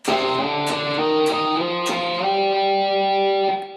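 Electric guitar part from a song, sliding up through fretted notes on the 5th and 3rd strings, with a run of distinct picked attacks and slides that end in a held, ringing note.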